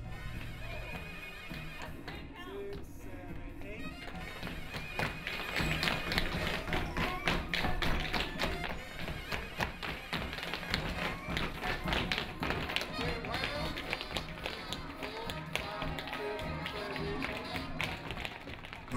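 A professional tap dancer's shoes strike the floor in rapid, crisp, sustained rhythmic taps and heavier stamps, close and loud for the whole stretch, with speech mixed in at times.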